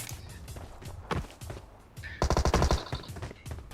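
A bot in PUBG Mobile fires bursts of automatic gunfire. Scattered single shots come first, then a dense rapid volley midway, mixed with footsteps and other game sounds.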